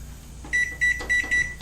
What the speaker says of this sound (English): Our timer.